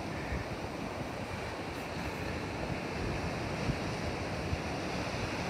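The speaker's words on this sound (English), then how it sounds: "There's the beach." Waves on a shingle beach near Dunwich, a steady wash of surf blended with wind buffeting the microphone, continuous and fairly soft.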